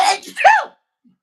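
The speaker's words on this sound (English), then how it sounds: "got a good sneeze" A single sharp sneeze, loud and close, followed by silence.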